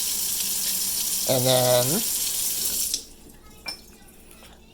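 Running tap water rinses a painted toy skull head in a steady, rushing stream that stops abruptly about two-thirds through, with a person briefly talking over the flow.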